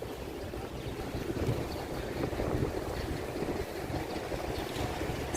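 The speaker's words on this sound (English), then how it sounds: "It's windy." Steady wind buffets the microphone while walking outdoors between Brooklyn and Manhattan in New York City, a continuous rumbling roar with gusty swells and no voices.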